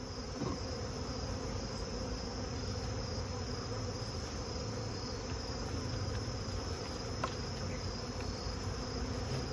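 Honey bees buzz around overwintering nucs in a yard, a steady, dense insect hum with a continuous high whine running throughout at moderate level, no voices.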